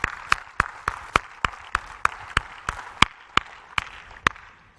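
A conference audience claps in a slow, sparse, rhythmic pattern, a dozen or so sharp evenly spaced claps at moderate distance, fairly faint, with no talking.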